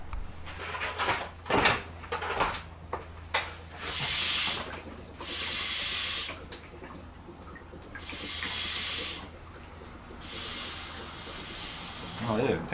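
Vacuum pump drawing fuel through the fuel pump of a 1971 Chrysler New Yorker, heard as a run of repeated hissing, rubbing pumping strokes in rhythmic bursts, with a low steady hum underneath and scattered clicks.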